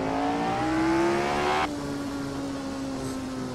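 Racing car engine in the Assetto Corsa game on the Goodwood circuit, a loud droning whine that drops sharply in pitch as it changes down under braking, then settles into a lower steady tone.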